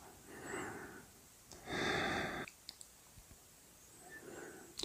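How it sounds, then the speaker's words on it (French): Slow, calm breathing during a sophrology relaxation session: a soft inhale, a longer, fuller breath, then quiet with a few small clicks before another gentle breath, all close and intimate. "Je suis présent dans le rythme paisible de ma respiration."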